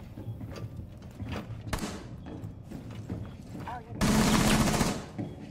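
Gunfire in a ranked Rainbow Six match: a few sharp scattered shots give way to a dense, loud burst of rapid fire near the end, with voices talking throughout.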